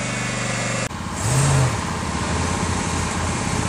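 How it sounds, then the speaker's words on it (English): An old Dodge vehicle is driven and moved on a snowy property, its engine running steadily and revving up briefly after a sharp knock, loud and close, without talk. "There he goes, moving the old Dodge so he can plow behind."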